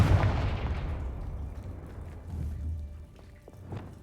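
A Confringo fire-blast spell from the Hogwarts Legacy video game lands as a deep boom at the start, then rumbles and crackles on, with further thuds and a small pop near the end, and no voices.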